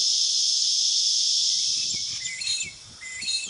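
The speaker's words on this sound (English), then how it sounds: "Here are the crickets again." A dense, continuous high-pitched cricket trill at a Hunter Valley winery in Australia fills the air, loud and steady, thinning slightly toward the end as faint low rustling appears beneath it.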